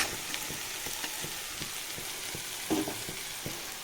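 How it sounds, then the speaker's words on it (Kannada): Sliced mushrooms tossed into butter and garlic in a hot pan give off a steady, close sizzle, with light stirring clicks scattered throughout and a brief louder crackle near the end. "ಈ ಟೈಮಲ್ಲಿ ಮಶ್ರೂಮ್ಸ್ ಹಾಕ್ಕೊಂಡ್ಬಿಡ್ತೀನಿ."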